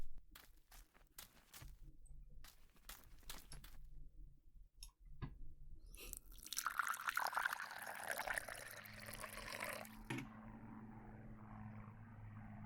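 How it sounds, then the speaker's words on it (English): Water pours from a watering can onto plants in a horror game, a splashing gush that swells after a few scattered clicks and footsteps, then gives way to a low hum. "Now that I have filled the watering can, I can water the plants."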